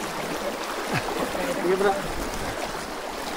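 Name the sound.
strong river current flowing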